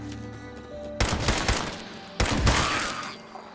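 Pipe pistol gunfire in the video game Fallout 76: two loud bursts of rapid shots, the second starting about a second after the first, over a low steady game background.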